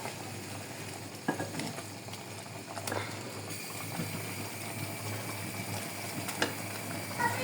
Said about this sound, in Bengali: পাঁচফোড়ন দিয়ে একটু হালকা আলতোভাবে নেড়ে চেড়ে নেবো